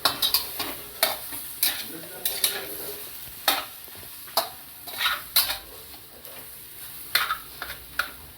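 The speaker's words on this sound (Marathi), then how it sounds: "भाजी अशी परतवली" Vegetable filling of potato with salt being stirred in a pan for aloo paneer paratha, quiet sizzling broken by repeated sharp spatula scrapes and clinks against the pan at an uneven rhythm.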